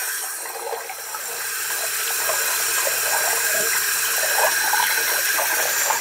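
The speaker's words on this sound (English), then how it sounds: "Now I got to rinse it off" A Rockwell 2C safety razor rinsed under a running tap, water pouring steadily and splashing into a sink, building slightly and holding constant with no talking.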